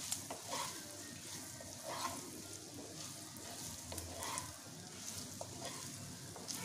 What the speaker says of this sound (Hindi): अच्छे से मिक्स करना है ऑयल में इसे